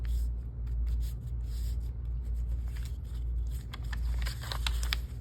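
Paper is folded in half and then into a triangle, giving soft close crinkles, creases and rubbing scrapes that grow busier toward the end, over a low steady background hum.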